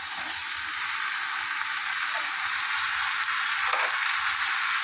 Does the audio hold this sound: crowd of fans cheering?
no